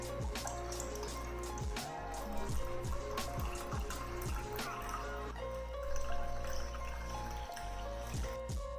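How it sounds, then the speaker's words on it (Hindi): A homemade summer drink is poured into a glass, giving steady liquid trickling and dripping sounds with soft clinks, close and moderately quiet, with no voices. "मज़ेदार सा जो हमारा ड्रिंक है इसको मैं गिलास में निकालती हूँ"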